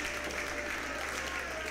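An independent wrestling crowd at Deadlock Pro applauds in a steady, dense wash of clapping from a sizable audience, with a faint commentary voice underneath.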